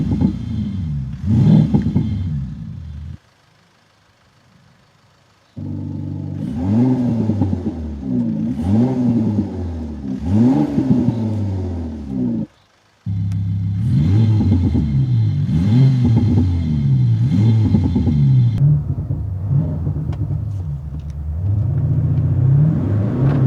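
A Mercedes CLA fitted with the Active Sound THOR engine sound system is driven on public roads. Its engine note climbs and falls in repeated rev cycles, with two brief near-silent breaks.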